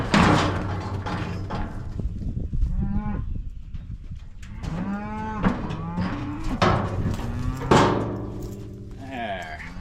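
Cattle moo repeatedly at close range on a farm where pinkeye calves were being treated, several long, loud lowing calls one after another, with metal gates rattling and people talking in between.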